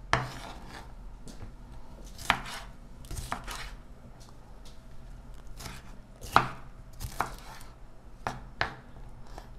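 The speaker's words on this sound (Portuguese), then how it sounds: "Tá cortando um pimentão verde" Knife chopping a green bell pepper on a board, with several sharp, close cuts landing in irregular bursts over a quiet kitchen background, no talking.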